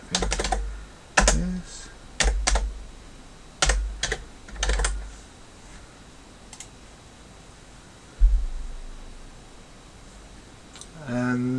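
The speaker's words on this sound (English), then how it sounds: "I'm just going to type in" Computer keyboard typing comes in short bursts of close, crisp key clicks, spaced between quiet pauses, with a brief spoken word near the start.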